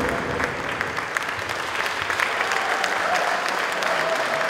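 Sustained audience applause at a Christmas carol concert in the Old Mine, steady dense clapping throughout with crowd noise, no pauses.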